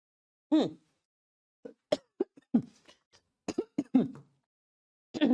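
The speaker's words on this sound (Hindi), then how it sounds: "आज तो खांसी हो गई मुझे।" Several sharp, close coughs and throat-clearing bursts come in irregular clusters, separated by moments of silence.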